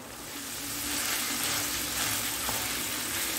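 Meat fries in melted clarified butter in a pan, a steady close sizzle with soft crackle that swells slightly and then holds, no voices over it.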